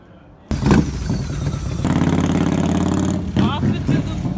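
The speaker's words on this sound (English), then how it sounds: "That bike is friggin' gigantic. That's so loud." A very large motorcycle roars loudly as it pulls away in Austin, Texas, its heavy engine note building and staying strong for several seconds, with voices chattering nearby over the rumble.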